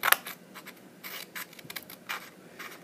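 Scissors snip through paper or thin cardboard while cutting pieces for a handmade box, giving a few quiet, scattered crisp cuts and rustles close by with no talking.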